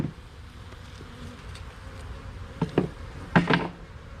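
Honeybees hum faintly around an opened hive box, and a few sharp knocks and rattles from the wooden box stand out near the end.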